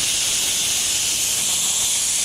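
A Bostitch framing nailer, its trigger stuck, hisses compressed air in one loud, continuous, steady rush with no break and no voices.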